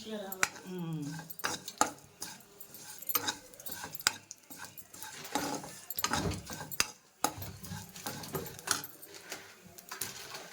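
Vermicelli frying in a pan for semiya payasam, with repeated metallic scrapes and clinks of a spoon against the pan and a faint sizzle. Someone speaks over the stirring for part of the time.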